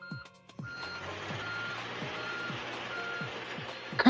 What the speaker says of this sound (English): Kind of sounds like a garbage truck